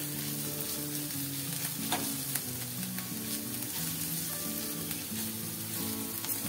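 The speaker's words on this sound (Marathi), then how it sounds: "पुन्हा एकदा व्यवस्थित परतून घ्यायचं आहे।" Ivy gourd being stir-fried in a pan with chili powder and turmeric: a loud, dense sizzle with the scrape and shuffle of stirring throughout, no voices.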